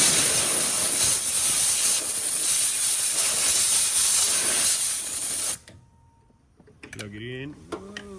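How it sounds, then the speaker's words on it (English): A compressed-air blowgun blasting dirt out of electrical terminals on a Ford 5.0, a loud steady hiss for about five seconds that cuts off abruptly, followed by quiet and a brief voice. "grab some compressed air and blow all this stuff out and see if we can't make those terminals a little cleaner"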